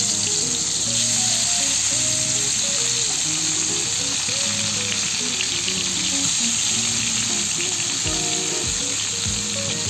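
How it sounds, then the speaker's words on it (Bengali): Lacho fish pieces fry in oil in a kadai with a loud, continuous close sizzle and crackle. Occasional light scrapes break in near the end, and no one speaks. "এখন আমি কড়াইয়ের মধ্যে মাছগুলোকে দিয়ে দিচ্ছি।"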